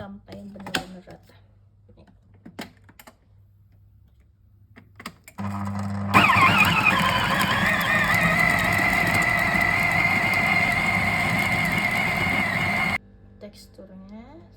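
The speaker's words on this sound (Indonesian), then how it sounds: "saya blender kembali ini sampai benar-benar rata." A blender mixes meatball dough with salt, baking soda and baking powder, a loud steady whirring motor running for about seven seconds between quieter kitchen sounds.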